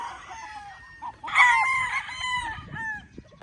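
Tethered roosters on a farm crow near and loud, several overlapping calls rising and falling over a few seconds, with faint clucking and farmyard background between.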